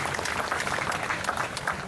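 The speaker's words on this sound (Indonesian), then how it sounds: "Mari kita berikan tepuk tangan pada mereka semua." At an art exhibition opening, an audience gives a brief, steady round of applause, a continuous wash of moderate, fairly distant clapping.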